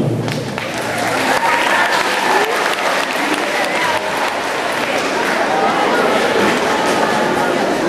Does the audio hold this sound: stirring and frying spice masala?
no